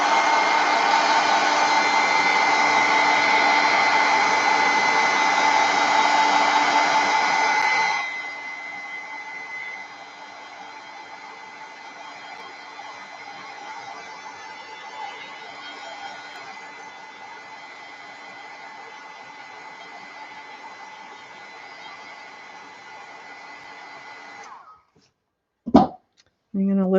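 Hair dryer blowing on a page sprayed with acrylic paint, a loud steady whir that drops to a lower, quieter setting after about eight seconds and runs on before clicking off, followed by brief handling knocks.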